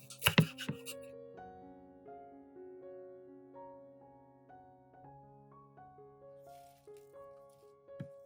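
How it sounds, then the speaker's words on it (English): Knife cutting through the base of onion stalks on a board, a few sharp chopping hits at the start and a final cut near the end, with tonal background music running throughout and no talk. "Trim the base of the onion stalks."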